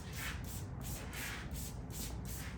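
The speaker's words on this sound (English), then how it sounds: "If you guys are wondering, this is a YS Park spray bottle." Water mist from a YS Park spray bottle pumped onto a child's hair during a textured haircut, heard as a steady series of about six short, breathy hissing spritzes in an even rhythm over low room rumble.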